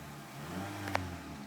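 A 2014 Honda Accord Touring with a four-cylinder engine revs in a steady, moderate drone that swells slightly and then holds, heard close and without talk.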